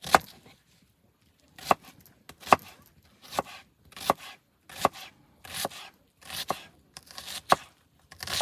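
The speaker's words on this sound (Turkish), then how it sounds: "Biraz soğan doğrayacağım bir tane." A knife chops onion on a board with steady, sharp thuds roughly every three quarters of a second, close and clear against a quiet background.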